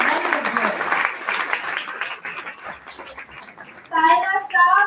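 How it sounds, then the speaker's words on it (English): An audience applauds at an annual school awards day ceremony, the clapping mixed with voices speaking and cheering over it, dipping midway before swelling loudly again near the end. "Good going audience with the applause."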